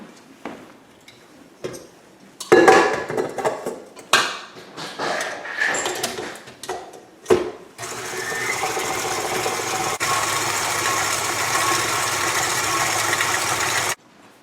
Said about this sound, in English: using our KitchenAid mixer, we're going to go ahead and blend up the shortening and sugar mixture